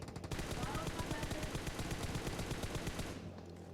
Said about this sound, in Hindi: अब जैसे ही मैंने M4 ली, पीछे फिर से शॉट्स आने लगे।